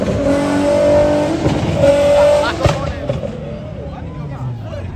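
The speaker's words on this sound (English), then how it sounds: "Y'all like the burnout?" A car does a burnout at a Pensacola car meet, its engine screaming in high revs that rise and fall, with sharp pops and crowd voices talking over the noise.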